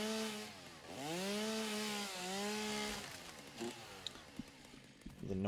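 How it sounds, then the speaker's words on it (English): A chainsaw engine drones loudly for a few seconds, its pitch dipping and rising as it revs, then breaks into scattered knocks and clatter. "The noise from my headphones is freaking my cat out. I could understand that. It is a chainsaw."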